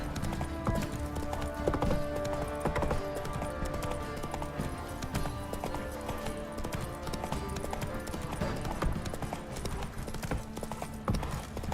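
Horse galloping in The Witcher 3, a steady rapid clip-clop of hooves running continuously under game music and ambient sound, with a brief voice near the start.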